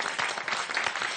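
A French TV game show studio audience claps in a dense, even burst of applause, heard at moderate distance and fairly subdued.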